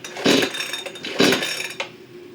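The starter cord of a new PRORUN PCS560C chainsaw is yanked twice in quick succession, each pull a loud, close rasping whir, followed by a brief rattle as the engine tries to catch.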